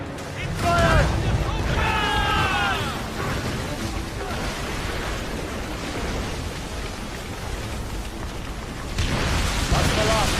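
Ship cannons firing in the naval video game Assassin's Creed Rogue: dense booming salvos rolling under continuous roaring battle noise, with shouted voices and whistling sounds early and a fresh surge of blasts near the end.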